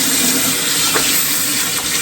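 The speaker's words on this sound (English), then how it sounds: "The very first thing I do, wash your hands, of course." Tap water runs steadily from a faucet into a sink during handwashing, a continuous close hiss with a couple of faint splashes and no talking.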